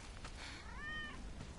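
A cat in Final Fantasy VII Remake gives a single short rising-and-falling meow, clear against quiet game ambience with no talking.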